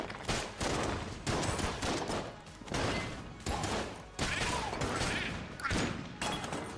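Gunfire in the game Enter The Gungeon, repeated bursts of shots and impacts in a dense, busy barrage with short gaps between volleys.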